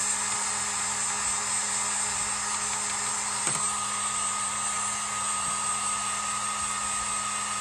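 A hair dryer drying glue on a grass skirt door hanger, blowing as a steady, loud, even whine and hiss throughout, with a brief murmur of speech under it.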